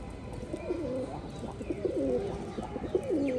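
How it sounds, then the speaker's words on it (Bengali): A green Rajshahi pigeon coos close by in a loft, several rolling, throaty coos in a row over low background noise. "এদিকে রাজশাহী সবুজটা ডাকছে"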